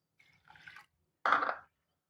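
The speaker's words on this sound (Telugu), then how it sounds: "తర్వాత దీంట్లో వాటర్ పోసుకోవాలి." Water poured onto soaked lentils of three kinds for khichdi, heard as a quiet short trickle followed by a brief, louder splash, alone in a silent room.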